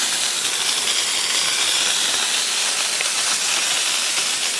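A virus-killer fogger sprayer hissing out mist, a loud, close, continuous hiss with a steady airy roar that holds evenly throughout.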